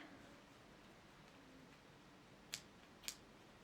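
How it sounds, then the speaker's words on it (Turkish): Two quick, crisp snips of scissors cut through yarn while crocheting, against a faint, quiet background hiss. "makasla keselim"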